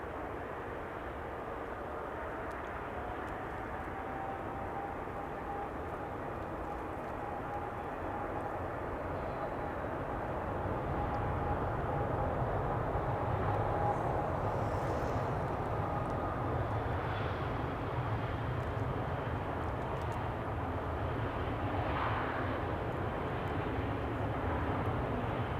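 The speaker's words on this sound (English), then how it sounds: "Little parade lap for the Orange Sprite, who's going to take off from the centered runway, but will be taxiing" Airliner in Orange Pride livery taxiing at Amsterdam Schiphol Airport before takeoff, a steady distant jet engine rumble and whine that swells gradually, heard alone outdoors.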